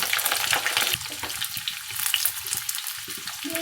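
Three medium potatoes, cut into pieces, fry in a pan over a medium flame until reddish. A close, continuous sizzle crackles throughout with no voices.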